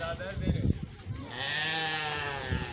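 Brief talking at a zoo, then a sustained quavering sheep bleat carries on for over a second, close and clear.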